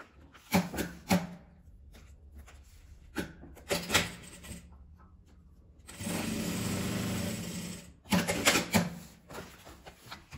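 A sewing machine stitches fabric for a storage box with eight dividers, running in a few separate bursts of close, steady whirring, with one longer continuous run in the middle.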